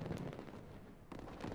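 Victory firework effect in the Disney's Sorcerer's Arena video game, a dense crackling burst with booming pops that fills the short moment, flaring again near the end, with no talk over it.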